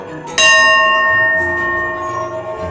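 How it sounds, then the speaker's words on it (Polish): A single strike of a large bell in Japan rings out loudly and close, then its bright, shimmering tone sustains and slowly decays over the following seconds. "Dzwon radości, więc możemy się podzielić za pomocą tego."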